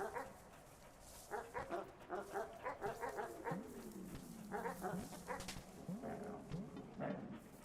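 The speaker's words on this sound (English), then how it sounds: "A damn wiener dog, I think." A wiener dog in the video game Animal Well barks in a rapid rhythmic series of sharp yaps over a sustained game tone, moderately loud and repeating throughout.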